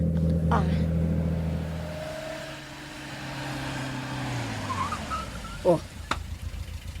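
A car engine idles and slows down with a falling drone as the vehicle comes to a stop, followed by a brief mechanical clunk and some rustling near the end.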